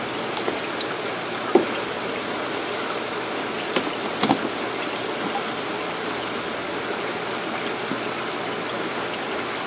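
Steady trickling, splashing water in an aquaponics tank where tilapia snatch feed at the surface, a continuous close wash with a few sharper splashes rising briefly above it.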